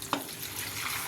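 A small vessel of water splashes into a pan of curry with turmeric, salt and chilli powder, a brief close pour that settles into soft bubbling.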